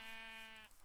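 A sheep in Minecraft lets out a single short, buzzy bleat when struck, close and clear, cutting off abruptly near the end with no talk over it.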